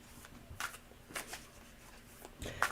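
Tarot cards are shuffled in a few quick riffling bursts, soft and close, separated by brief pauses in an otherwise quiet room.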